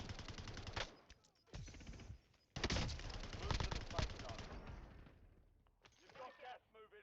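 Rapid bursts of video game gunfire, machine-gun rattles and single shots in a shooter match with airstrikes, loud and near, crackling over excited talk from players throughout.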